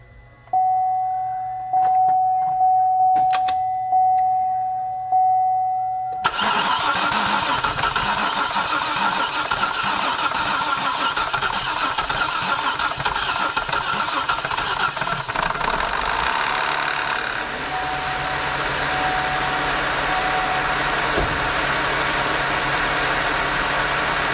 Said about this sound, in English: I'll tell you what, that's nerve-wracking hearing that clackety-clackety-clack on that first start up.